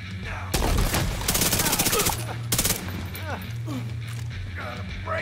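Rapid automatic gunfire bursts in The Division 2 shooter, loud and close, rattling in several volleys between quieter gaps with other game sounds underneath.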